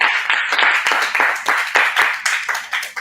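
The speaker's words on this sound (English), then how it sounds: "Let's give a round of applause." A youth summit audience claps loudly and closely, individual hand claps standing out in an uneven rhythm through the short burst.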